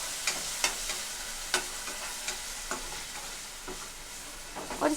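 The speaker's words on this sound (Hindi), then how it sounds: "हम इसमें 1 बारीक कटा हुआ टमाटर डाल देंगे और अच्छे से मिक्स कर लेंगे।" Finely chopped tomato stirred into golden-brown onions in a frying pan, with a steady sizzle and a series of spaced spatula scrapes and taps, close and clear with no voices.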